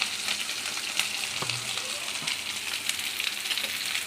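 Onion and garlic frying in a pan for onion chutney, a steady broadband sizzle running throughout with a few faint clinks and scrapes, close and continuous with no voices.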